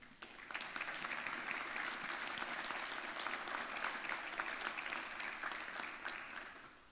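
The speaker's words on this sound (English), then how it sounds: "Let's give one big round of applause to thank everyone involved, including the candidates tonight." Sustained applause from a sizable crowd, steady dense clapping that holds for several seconds before tapering slightly at the end.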